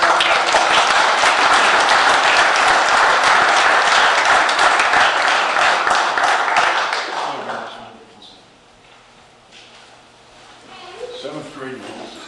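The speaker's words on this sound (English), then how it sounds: "we'll do one more round of applause for them" Audience applause for wrestling champions and their coaches at a school event in Homer Glen, dense clapping loud and sustained for about eight seconds before fading to scattered claps and murmuring voices.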